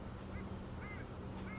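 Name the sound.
long-tailed ducks calling in a winter harbor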